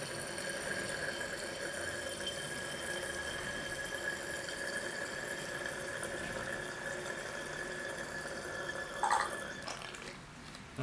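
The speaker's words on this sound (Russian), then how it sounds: "зальем бензинчика" Petrol is poured into a Fire-Maple FMS-F5 portable petrol burner, a quiet, steady trickle of liquid running throughout, followed by a brief clatter near the end.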